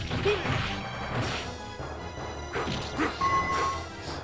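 A hammer strike from the Dungeons and Dragons Tower of Doom arcade game lands among other clattering impacts and bright game effects in a busy, noisy scene.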